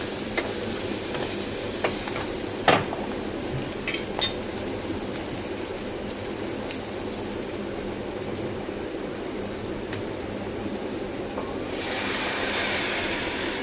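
Peanuts and coriander fry in hot oil in a home kitchen pan, a steady soft sizzle with a few sharp clinks of a utensil against metal and a brighter hiss swelling near the end.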